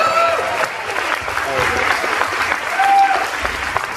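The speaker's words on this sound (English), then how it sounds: "Keep the clapping going." Loud crowd clapping from a convention panel audience at New York Comic Con, continuous with cheers and voices mixed in throughout.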